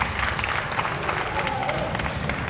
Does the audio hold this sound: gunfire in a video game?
no